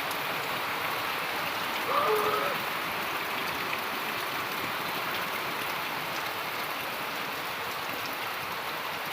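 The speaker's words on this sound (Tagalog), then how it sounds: "lakas ng ulan" Heavy rain pours steadily outdoors in a wooded area, a dense, even hiss that holds at constant loudness throughout with no break.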